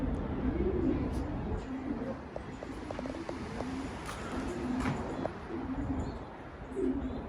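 Pigeons coo in repeated low, soft phrases amid a busy outdoor ambience, with a few brief higher chirps scattered through.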